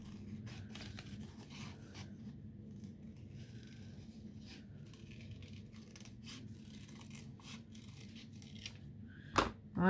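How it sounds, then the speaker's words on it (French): Small scissors cut a paper card about 5 cm tall and 3.5 cm wide for a Mother's Day craft, giving faint, close snips and rasps in an irregular rhythm, with a louder handling bump at the end. "Je vais venir avec mes petits ciseaux la couper."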